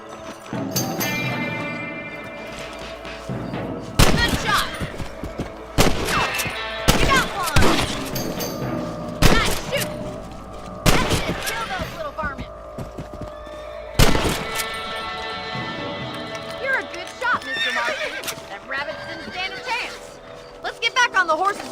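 Rifle shots fired at rabbits in the Western video game Red Dead Redemption ring out as a series of sharp, loud cracks spaced irregularly over a bed of game music and ambience, with a horse whinnying in places.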